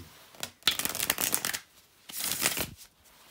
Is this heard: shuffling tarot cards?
yes